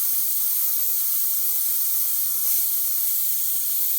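Airbrush spraying pastel color onto a painting, a steady close hiss that runs unbroken and even throughout with no talk over it.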